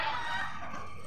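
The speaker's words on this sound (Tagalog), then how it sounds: "May mga gansa guys." Geese honk and call in a brief, noisy burst, a bit distant and blended with steady outdoor background sound.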